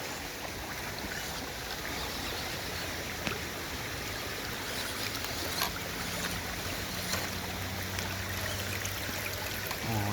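A waterproofed WPL RC truck drives through water: continuous splashing and churning with a steady motor whine underneath, close by and fairly loud throughout, no talking.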